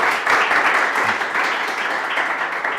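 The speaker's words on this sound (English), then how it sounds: "So please, applause." Audience at a NestJS meetup talk in Vienna claps together, a dense, steady burst of applause from a roomful of people that keeps going and fades slightly toward the end.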